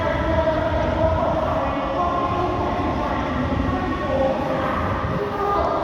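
A train at Luang Prabang railway station in Laos sets up a steady, loud mechanical rumble and hum, with a murmur of voices underneath.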